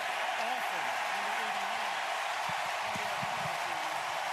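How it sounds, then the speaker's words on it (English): A packed Buffalo Bills stadium crowd at a game against the Miami Dolphins keeps up a steady, dense roar, with a voice talking over it. "And that's the crowd noise."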